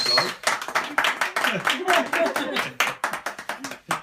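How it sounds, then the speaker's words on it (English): A small class claps in rhythmic bursts for a student's informative speech, close and fairly loud, with voices talking over the clapping. "Keep applauding"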